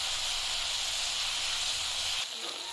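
A spiced small-fish mixture with mustard frying in a pan, a steady close hiss and sizzle throughout that eases slightly near the end.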